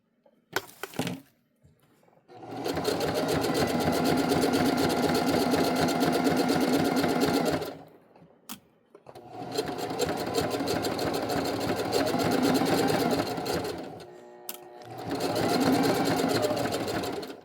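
Sewing machine stitching the hem of athletic pants, running in long steady whirring bursts with short stops between passes, close and loud.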